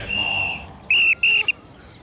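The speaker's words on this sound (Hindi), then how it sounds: "पिछले सिग्नल से सीटी पे सीटी बजा रहा हूँ" A traffic policeman blows sharp, shrill whistle blasts, one longer then two short bursts, loud and close over quiet background.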